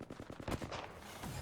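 A Kraber sniper rifle in the Apex Legends video game fires in a match, heard as a rapid string of loud, close gunshot cracks with dense, echoing blasts over constant game noise.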